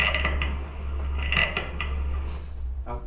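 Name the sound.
creaking noise recorded from a supposedly haunted sofa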